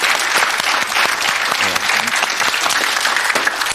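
Studio audience on a talk show bursts into loud, dense applause that continues steadily throughout, with voices faintly mixed in beneath the clapping.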